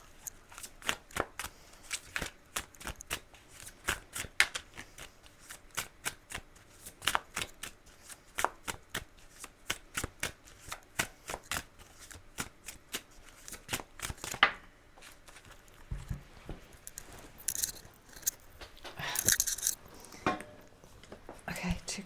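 Tarot cards shuffled during a reading: many soft, quick riffling flicks and slaps in irregular bursts, close and quiet, with a voice speaking intermittently underneath.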